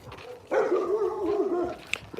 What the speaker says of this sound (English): that dog is really loud